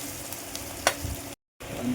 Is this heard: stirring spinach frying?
yes